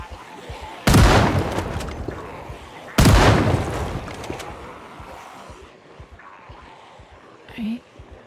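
Two loud, sharp gunshots ring out a couple of seconds apart in a zombie video game, each decaying slowly, followed by quieter ambient game sounds and a short faint tone near the end.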